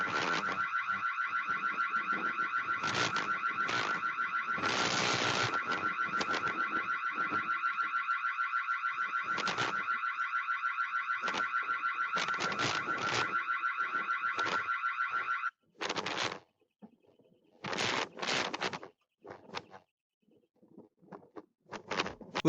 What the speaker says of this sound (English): that alarm tone seems to be the best out of all the ones we've heard so far